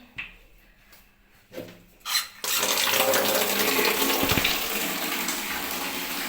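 Tap water gushes steadily and loudly into a bucket at home, starting after a few brief quieter knocks and splashes and running continuously to the end.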